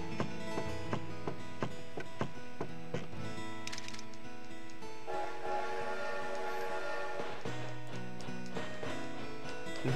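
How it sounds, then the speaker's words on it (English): Train ride in the video game Animal Crossing, with a whistle-like tonal melody and rhythmic rail clatter over steady rolling movement. "Let's get on the train."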